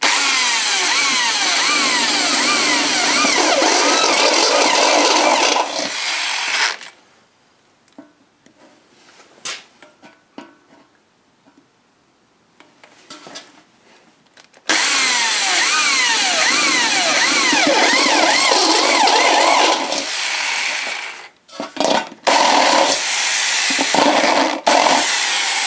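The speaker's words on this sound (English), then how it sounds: "Nothing like a sharp hole saw." A sharp hole saw in a power drill cuts holes in two long, loud whining bursts with a grinding edge, separated by a quiet gap with light clicks and handling, then a few shorter spurts of cutting.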